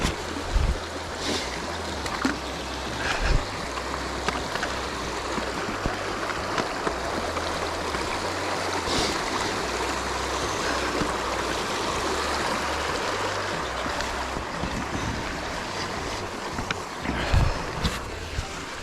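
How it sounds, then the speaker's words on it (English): Flowing water of a river stream being crossed on a cool, overcast morning hike in the Kaweka Range of New Zealand, a steady close rushing wash with occasional splashes and low rumbles throughout, no talking. "Let me cross this river first,"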